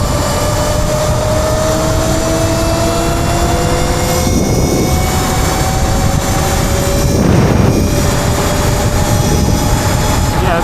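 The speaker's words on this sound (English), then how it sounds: "So I noticed that the bike is a lot louder" An upgraded 8000W King Goat V3 electric bike riding loudly, giving a steady, continuous roar with rising whine tones and wind rush throughout, no talking.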